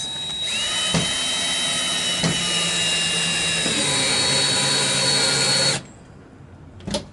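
A power drill drives a screw through the wood frame of a reclaimed-window greenhouse, a sustained close whine with short bursts as it bites, then stops abruptly, followed by a faint click.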